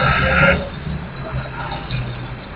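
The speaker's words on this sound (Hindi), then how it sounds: "इंजन बंद करो इस गाड़ी को" Loud, rough idling of a badly damaged vintage car engine, a low, throbbing rumble that stays close and steady throughout, slightly louder in the first half-second.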